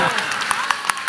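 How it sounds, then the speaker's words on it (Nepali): Audience members at a Sindhuli bhajan performance clap in a loose, regular rhythm, the sharp claps sounding under a voice that keeps going throughout. "ताली लगाइदेऊ न"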